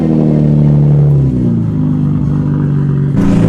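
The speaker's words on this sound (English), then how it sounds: "Jack's bringing that Jeep out of the dyno right now" A Jeep engine fresh off the dyno drives past, loud and steady with a deep, rumbling mid-range drone, easing briefly before rising again near the end.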